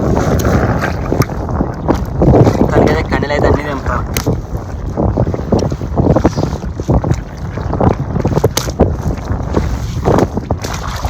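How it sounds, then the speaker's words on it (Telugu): Steady wind buffets the microphone on a small fishing boat out on the water, a continuous rushing roar with occasional louder gusts throughout. "గాలి వచ్చేసరికి అంత ఆగమామవుతుంది"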